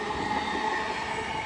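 A train rolls through York station on the East Coast Main Line, a loud steady rumble of wheels and carriages with a faint squeal, no voices.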